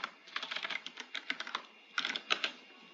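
A computer keyboard being typed on to enter a command in a Minecraft server, a close run of quick, uneven clicking keystrokes with a brief pause midway, no voices.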